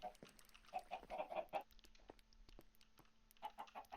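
Chickens clucking in the Minecraft video game, several short clucks in bursts near the start and again near the end, fairly quiet with soft clicks and game sounds between.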